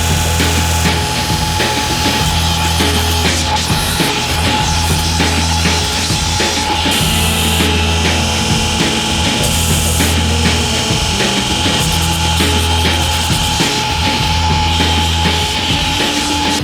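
Loud, continuous rasping grind of a belt grinder with a 36 grit belt roughing out a steel rapier blade, droning close by with rhythmic surges in pressure as the blade is worked.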